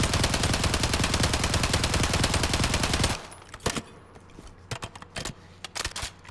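Rapid automatic gunfire on a video game firing range, about three seconds of continuous loud shots, followed by scattered single sharp reports and clicks.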